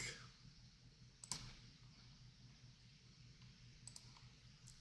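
Quiet computer mouse clicks during CAD work on a single-family lot grading design, a sharp pair near the start and another faint pair later, over a steady low hum.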